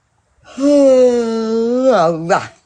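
A single long, drawn-out yawn with a voiced, tonal stretch that rises at the end into a brief closing sigh, close and clear.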